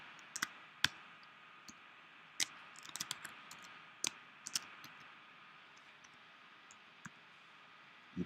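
Typing on a computer keyboard, faint close clicks and taps in irregular short bursts with gaps between, over a quiet hiss.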